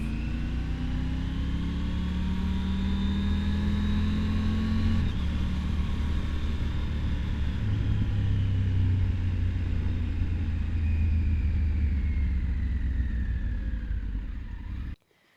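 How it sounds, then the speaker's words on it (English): A motorcycle engine drones steadily while the bike is ridden, a loud, continuous rumble with gently rising and falling pitch as the rider shifts and accelerates, captured up close by a Hollyland Lark Max wireless microphone transmitter, ending abruptly. "So here is how my bike sounds like when I'm riding it with the transmitter itself."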